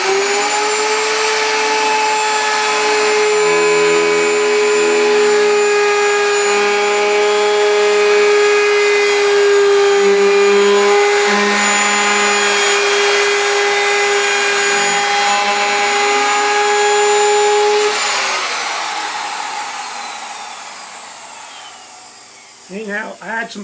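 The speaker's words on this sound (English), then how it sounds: "So I'm just going to do conventional routing and put the chamfer on it." A router cuts a chamfer on poplar wood, its loud steady whine with a faint buzz running for most of the stretch, then spinning down as the bit slows.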